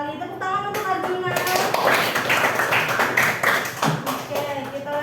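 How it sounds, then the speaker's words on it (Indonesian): A classroom gives a student a round of applause, a burst of many hands clapping near and fairly loud for a few seconds, framed by a teacher speaking before and after. "Tepuk tangan untuk Arjuna"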